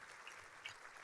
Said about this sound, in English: Give them applause on behalf of all this Istanbul Education Summit